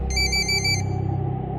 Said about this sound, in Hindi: पुष्कर का फोन बजा